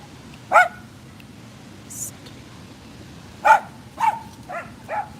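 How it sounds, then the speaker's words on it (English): Several sharp dog barks, some single and some in quick pairs, spread across an outdoor scene, fairly loud and close, with quiet talking in between. "I'm not gonna lie, there's gonna be some barking."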